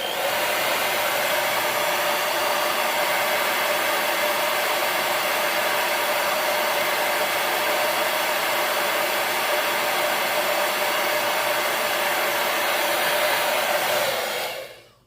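A hair dryer blows steadily on a washed stencil letter E, a loud continuous close-up whoosh lasting about fourteen seconds before it switches off and winds down.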